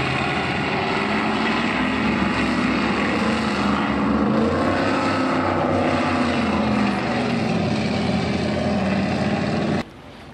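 Offshore superboats race far out on the water with a helicopter overhead, their engines blending into a steady, loud droning roar that holds for several seconds, then drops abruptly to a quieter hum.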